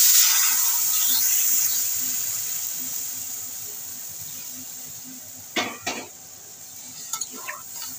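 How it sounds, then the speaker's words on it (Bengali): Water hits a pan of well-fried potatoes and bitter gourd for a Bengali bata fish curry. A loud sizzling hiss bursts out at first and slowly fades, then a few sharp utensil clicks and taps follow near the end. "এবার আমি জল দিয়ে দিচ্ছি।"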